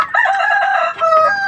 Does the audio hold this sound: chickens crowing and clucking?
yes